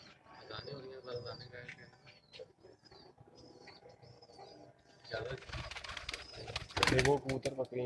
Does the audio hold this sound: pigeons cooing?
yes